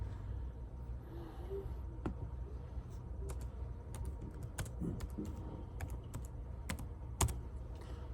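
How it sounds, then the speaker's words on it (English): Typing on a computer keyboard, soft rapid key clicks in irregular bursts with a few sharper taps, heard close and quiet against a low background hum, with no talking. "I typed in Epstein on Trump."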